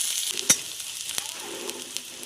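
Garlic sizzles steadily in hot oil, with sharp crackles and pops breaking through the continuous hiss.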